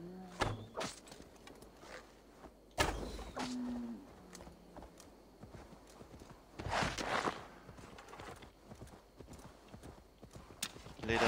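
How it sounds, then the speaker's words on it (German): Steady clip-clop of horse hooves trotting along in the video game Assassin's Creed Valhalla, with a few loud thumps and occasional low animal calls mixed in. "Weißzahn, wir reiten zu Liv."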